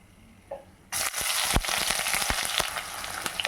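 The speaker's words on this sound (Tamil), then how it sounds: "2 வெங்காயம் சேர்த்துருக்கங்க." Sliced onions hit hot oil in a pan with a sudden loud sizzle and keep frying steadily for veg salna, a spiced Tamil vegetable curry, with faint stirring clicks under the crackle and no talking.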